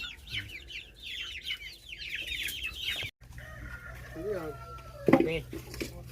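Month-old Rhode Island Red chickens clucking and chirping nearby, with a brief crow-like call and a person talking over the flock.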